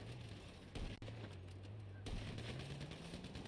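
Gunfire in the video game GTA 5: a few sharp, loud shot bursts punctuate a steady low engine-like hum, with the heaviest cluster near the start and another crack partway through.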